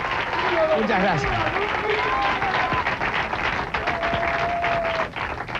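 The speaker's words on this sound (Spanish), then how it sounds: "Yo sé que aplauden la precisión y la eficiencia." A studio audience on a TV show claps steadily after a performance of a song. Someone speaks over the applause, and the clapping thins near the end.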